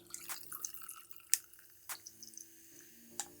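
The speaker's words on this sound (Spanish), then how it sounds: "escuchen esas burbujas" Tonic water fizzes in a gin and tea cocktail over ice, a faint, close crackle of scattered popping bubbles and small drips with a few sharper clicks, in a quiet room without speech.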